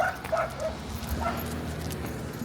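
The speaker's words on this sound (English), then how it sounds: "Come on, Rick the puppy" A puppy gives a few light barks and short yips near the start, then keeps on with softer whimpering over steady low background rumble in an outdoor neighborhood setting.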